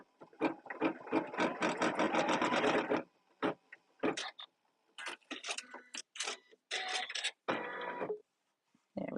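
An embroidery machine stitches a taped-down zipper in the hoop. Rapid, buzzing needle strokes run steadily at first, then break into shorter stop-start bursts separated by quiet gaps.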